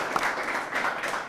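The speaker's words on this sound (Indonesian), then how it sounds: "Ya, tepuk tangan" Short burst of audience applause at a cultural gathering, a steady wash of many hands clapping for just over a second with no pause.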